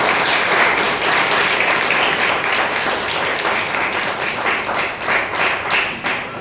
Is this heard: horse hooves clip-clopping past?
no